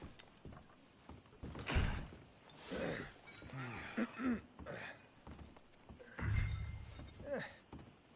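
Horses whinny several times in a stable yard, with shuffling, knocks and stamping hooves between the calls, heard at moderate distance with no talking.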